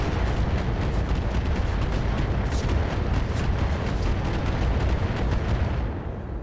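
Rapid salvo of SRM missiles fired by a mech in the RogueTech BattleTech game, a dense, loud barrage of overlapping launch bursts and rumbling booms running continuously before tapering off at the end.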